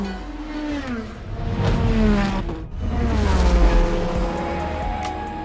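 A Peugeot 9X8 600 hp hybrid hypercar engine rising and falling in pitch through gear changes, with a brief dip just before the midpoint, loud and close, with no talking over it.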